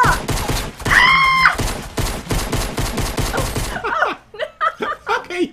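Rapid gunfire from a Fortnite Battle Royale shootout at Tilted Towers, a dense burst of shots in a long run that then breaks into scattered separate bangs, with a voice groaning and laughing over it.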